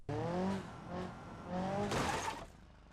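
A simulated car crash in BeamNG Drive, with engine revving in repeated rising surges followed by a short broadband crunching burst near 2 seconds, then fading, moderately loud and without talk.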